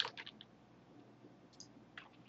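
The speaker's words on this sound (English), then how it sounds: "since my keyboard is so loud" Quiet clacking keystrokes come in small bursts, a few rapid clicks then pauses, faint against a low background hiss.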